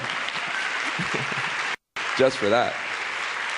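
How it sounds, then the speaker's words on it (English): Audience applause at a stop on the We Rise Against Hate Tour, a steady wash of clapping that breaks off briefly, with a speaker's voice over it. "So give a round of applause for that"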